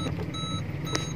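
Faint reversing beeps from an older car with an aftermarket Android head unit and rear camera, two short electronic tones about half a second apart over a low engine idle.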